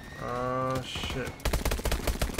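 Rapid automatic gunfire from the video game Call of Duty Advanced Warfare bursts out loudly in quick succession after a short voice and game tones at the start.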